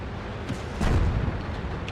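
Artillery fire in the tank battle video game World of Tanks, a deep rumbling boom that swells mid-clip and trails off as a low roll.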